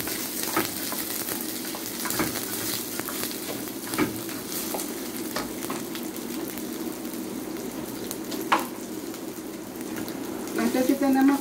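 Rice frying in hot oil in a pan, a steady close sizzle throughout with occasional scrapes and stirs, growing busier near the end.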